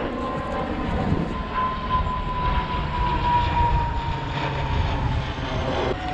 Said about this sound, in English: There's a plane going overhead.